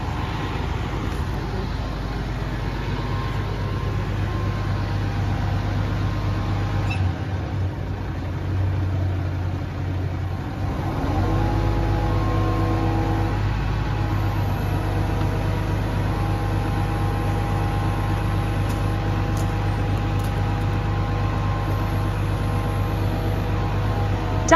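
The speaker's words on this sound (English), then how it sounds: "Big lorry!" A big lorry's heavy engine rumbles steadily nearby, idling low, then grows louder and rougher as the lorry carrying roofing materials pulls closer.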